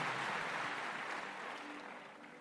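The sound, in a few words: congregation applauding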